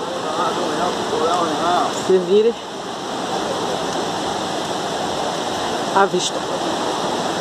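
A waterfall in São Bartolomeu park rushes as a steady broadband roar, with a person speaking Portuguese briefly over it and short chirping calls nearby.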